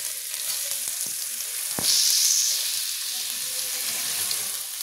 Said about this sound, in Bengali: পেঁয়াজটা একটু ভালো করে ভাজা ভাজা করে নেবো